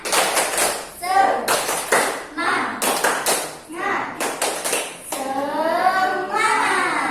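A class of children performs tepuk semangat, a rhythmic spirit clap, in short bursts of patterned hand claps and taps mixed with chanted voices, loud and close, pausing between rounds.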